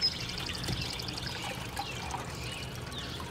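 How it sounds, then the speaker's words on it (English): Watery clay mud poured into a bucket while making a mud and brick fire pit, a steady trickling, splashing stream heard up close and alone. "and we're gonna pour until it gets thick and cloudy."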